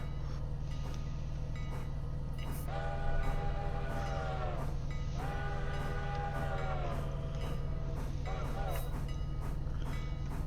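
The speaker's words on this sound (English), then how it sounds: "a whistle that I think should be used on this engine should be the NYC 5 chime" A five-chime NYC locomotive whistle sounds in the Railroader train simulation game, three harmonic chord blasts ringing out over a steady low engine rumble, with a shorter final toot.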